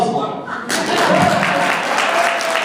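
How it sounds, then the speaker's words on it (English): Audience applause at a political reelection announcement, a short burst of clapping rising suddenly after a brief lull and holding steady and fairly loud. "That's an applause line."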